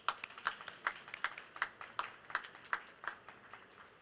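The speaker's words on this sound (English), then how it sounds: "Let's warmly welcome Mr. Lee to the stage with the round of applause." An audience at a conference stage gives a faint, evenly paced round of clapping to welcome a speaker, with sharp separate claps repeating at a steady rhythm.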